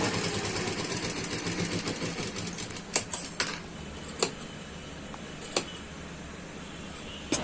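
A sewing machine stitches the curved neckline of a suit: a steady soft mechanical whir runs for about three seconds, then gives way to a few separate clicks and taps, close and quiet.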